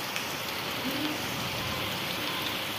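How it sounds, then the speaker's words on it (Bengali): Heavy rain falls steadily in a Bengali village, a continuous dense hiss of drops on surfaces and pooled water, close and unbroken with no voices. "বৃষ্টি কমার কোনো লক্ষণই দেখতে পাচ্ছি না।"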